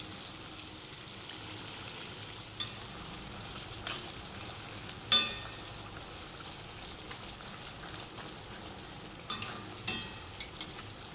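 Chicken gizzards with spices being slowly fried in oil in a wok, a low continuous sizzle with occasional sharp clinks of a spatula stirring against the pan.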